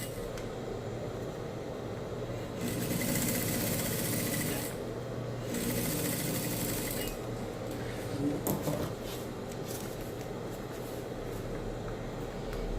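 A sewing machine topstitches a fabric bag with a lined body, a steady mechanical whir running throughout with brief louder bursts of faster stitching.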